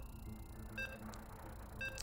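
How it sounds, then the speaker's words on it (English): Two short, bright electronic beeps about a second apart, ringing out clearly over a steady background hum of game audio, on the Neon Violet Square map. "you can hear the beeps."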